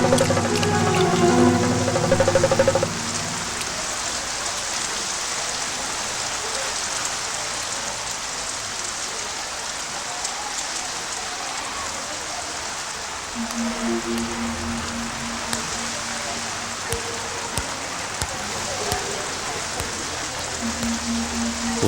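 Steady rain falls in a village setting, a dense, even hiss of drops on surfaces that stays constant throughout, with brief low tonal sounds at the start and again later.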